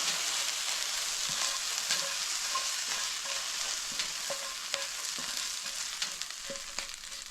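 A spatula spreads and scrapes a breakfast burrito filling across a hot pan, with a constant bright sizzle and scattered scraping clicks from the spatula. No voices.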